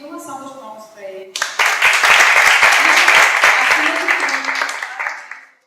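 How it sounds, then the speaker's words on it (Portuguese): Audience applause for a guest speaker at a free cybercrime lecture given by the Federal Police, a dense burst of many hands clapping that starts abruptly after a brief voice and sustains loudly before tapering off. "E uma salva de palmas para ele."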